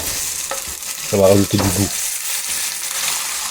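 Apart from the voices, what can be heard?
chicken legs sizzling as they brown in a pan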